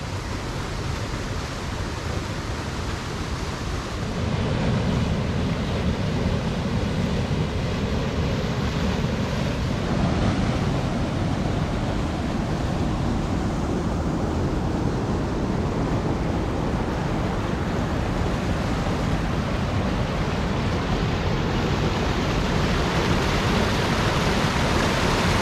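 Water pours over the weirs of the Foxton Locks canal staircase, a loud, dense and continuous rushing roar that grows fuller after a few seconds and holds steady throughout.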